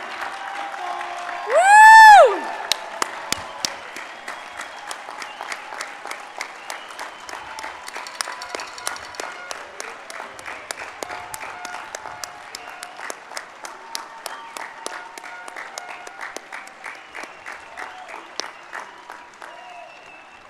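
Audience applauding graduates of the class of 2021 at an engineering school bachelor's commencement, a sustained patter of many hands with a loud whoop near the start, continuing steadily at moderate level.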